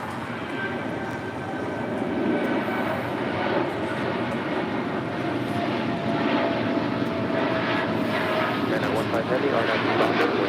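Aircraft engines at LAX airport roar in a steady, broad, distant wash under a radio voice that keeps talking throughout.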